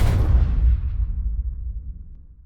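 A single gunshot sound effect: one heavy booming blast followed by a long, low rolling decay that fades over a couple of seconds.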